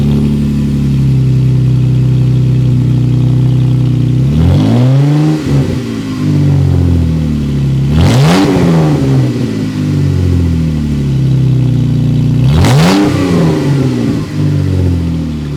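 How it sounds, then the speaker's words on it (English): A Jeep JK engine revs hard three times over a steady idle through an aFe Mach Force exhaust and Twisted Steel Y-pipe, each rev rising sharply and falling back, heard from inside the vehicle. "I want to let you hear what the exhaust sounds like inside of the Jeep."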